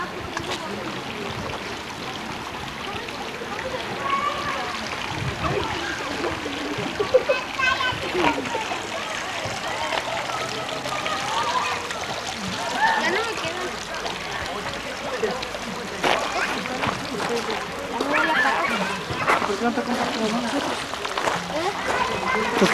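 Water running down a slope into a river outdoors, a steady broadband rush and splashing, with people and someone talking throughout.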